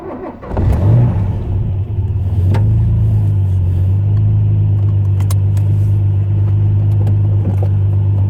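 A Ford Capri sets off on a short test run after a brake caliper replacement, its engine rising from a rev to a loud, steady in-car drone with a brief higher surge.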